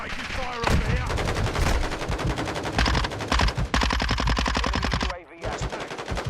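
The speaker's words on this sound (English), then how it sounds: "Taking fire over here!" Sustained automatic machine gun fire from the video game Call of Duty: Modern Warfare II, loud rapid bursts with a brief pause near the end, accompanied by voices.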